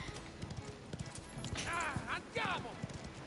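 Horse hooves clip-clop at a steady trot in a mafia-themed video game, a soft repeated rhythm running under loud overlapping talk.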